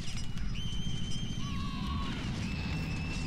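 A horse in the video game Roller Coaster Tycoon 3 Wild gives brief, whinny-like calls over a busy game background with faint hoof clatter.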